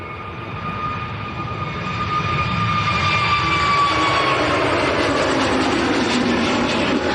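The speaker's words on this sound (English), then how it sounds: "next departure on the roll. This is Pegasus going out to Istanbul" Pegasus Airbus A321neo on its takeoff roll at Manchester Airport, a steady jet engine roar building gradually with a whining tone sliding downward, fairly loud and continuous without voices.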